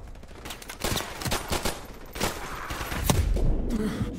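A .45 caliber gun firing in Call of Duty Modern Warfare Remastered, several quick bursts of close, loud shots in an uneven rhythm with a fairly slow rate of fire.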